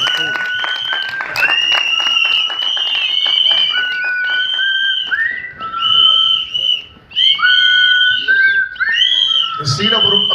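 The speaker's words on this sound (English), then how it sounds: "So big round of applause for sir." An audience at a Mumbai film trailer launch event claps and cheers in a steady, dense wave, with loud shrill whistles rising above the clapping throughout.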